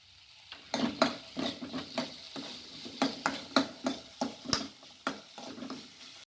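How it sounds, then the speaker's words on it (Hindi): Daliya pulao with chopped tomatoes being stir-fried in a pan, a soft sizzle under a rhythmic series of spatula scrapes and taps, about a dozen strokes, fairly quiet and close. "अब इसको 1 मिनट और स्टिर फ्राई करेंगे"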